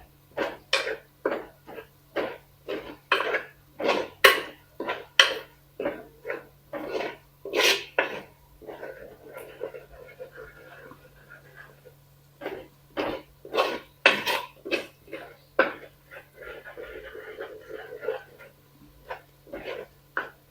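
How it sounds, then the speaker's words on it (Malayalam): Chilli powder and spices are mixed in a pot for a fish curry, making quick rhythmic scraping strokes in bursts with a short pause in between. The sound is fairly close, and no one speaks. "എല്ലാം കൂട്ട് നല്ല മിക്സ് ചെയ്യേ."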